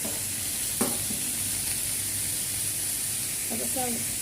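Kofta sizzling steadily in a hot pan on the stove, a continuous close frying hiss broken by a few soft scrapes and knocks as the pieces are turned.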